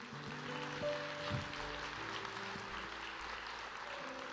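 Congregation applause at an evangelical church service, moderate and spread out across the clip, with sustained tones from instruments or a keyboard underneath.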